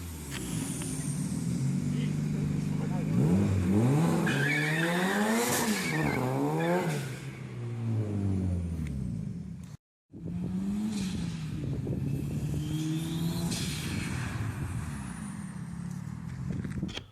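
A turbocharged car engine revs repeatedly in quick rising and falling bursts, loud and close, briefly cutting out before rumbling on; a voice seems to talk at points.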